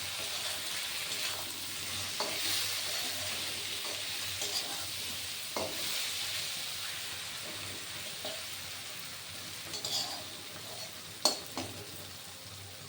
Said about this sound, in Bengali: নেড়ে দেবো একটু।